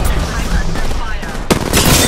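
Gunfire in the Apex Legends battle royale, a dense continuous stream of shots with a sharp, louder burst partway through, all close and loud, with game voice chatter mixed in.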